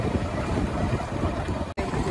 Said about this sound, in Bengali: দেখতে পাচ্ছ কত সুন্দর যাচ্ছে নৌকাটায়